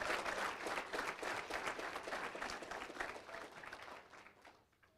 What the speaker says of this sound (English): Applause, everyone, for Jay Ajayi.